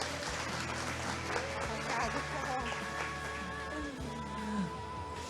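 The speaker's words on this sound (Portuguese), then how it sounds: "Aplauda o Senhor Jesus." An audience at a church festival in Vila Abraão applauds in a steady wash of clapping, set under loud music with sustained tones and a voice over it.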